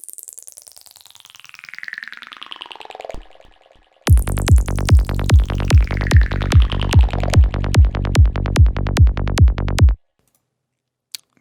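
A Sylenth1 synth preset named reptile from the Psychedelic Impressions pack: a long sweeping tone glides down over three seconds, then about fourteen sharp, evenly spaced plucky hits with a deep low end pulse for six seconds and stop abruptly.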